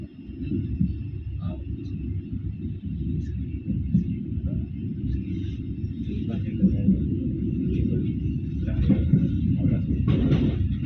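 Steady low rumble of the Logawa business class passenger train rolling on rails between Jember and Probolinggo, heard from inside the carriage with faint clatter, continuous and under occasional talk.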